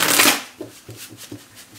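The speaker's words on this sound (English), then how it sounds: "2 more shuffles." Tarot cards being shuffled by hand: one loud riffling burst at the start, then several softer, rhythmic card taps and shuffles, close and with no talking.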